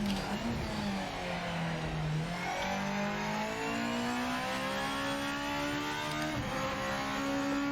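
A GT500 race car engine in the racing game Project Motor Racing, revving up and down through gear changes in a loud, continuous mechanical drone.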